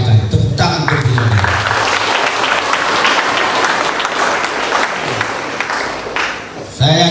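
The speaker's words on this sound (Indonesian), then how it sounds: "Tepuk tangan untuk beliau" An audience at a school or student organisation inauguration ceremony claps for a speaker after a religious talk, loud continuous applause lasting several seconds, with a voice heard at the start and again near the end.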